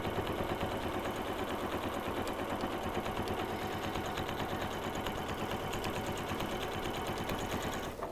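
A sewing machine quilts fabric potholders with contrasting thread, its needle hammering in a fast, even, continuous rhythm close by, with no talking.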